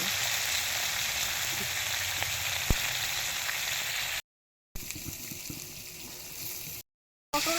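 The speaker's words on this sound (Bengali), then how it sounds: "পটলটা ভাজা হোক বন্ধুরা," Salted pointed gourd frying in a pan, a loud, dense, close sizzle with light stirring scrapes, broken by two short silent gaps, without speech.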